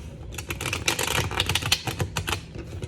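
A deck of tarot cards is shuffled by hand at close range, giving a quick run of crisp papery riffles and flutters that rise and fall over a few seconds, with no voice over it.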